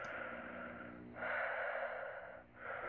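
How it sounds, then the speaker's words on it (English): Heavy, rasping breaths from a caller over a phone in a horror video game's motel scene, close and continuous, swelling louder midway before easing off. "Heavy breathing."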